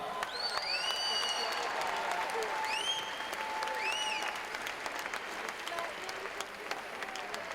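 Steady applause from the audience at the 2012 IFSC Climbing World Championships final in Paris fills the space, with whistles and cheers rising above the clapping.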